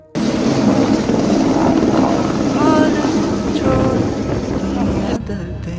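Inside a helicopter on the flight to Kedarnath, a loud, constant engine and rotor roar fills the cabin with no break, and a faint voice sounds beneath it.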